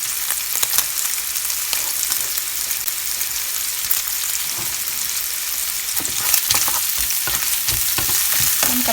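Sliced onion stir-fried in a pan hisses with a loud, continuous sizzle, and scattered clicks and scrapes from stirring come through close by without any talking.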